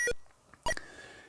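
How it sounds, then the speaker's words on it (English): Electronic beeps from the Flipper pinball game on a Philips G7000 Videopac console as the plunger power is set: short bright tonal blips in quick succession, clear and fairly loud. "That beeping, you can hear that, is sort of you setting the power of the plunger at the beginning."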